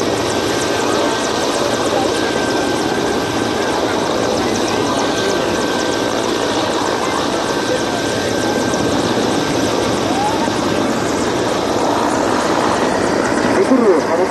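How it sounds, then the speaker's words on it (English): A Mi-17 helicopter with two turboshaft engines drones steadily at an air show, with a throbbing rotor and engine whine, sustained and fairly close throughout, rising slightly in intensity near the end. "Of the helicopter is its ability to climb vertically up or to descend vertically down"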